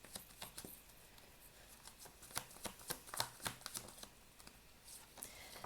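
Tarot cards being shuffled and drawn during a reading, giving a run of quiet, crisp riffles and soft flicks with several sharp card snaps spread across the clip, close and faint with no talk.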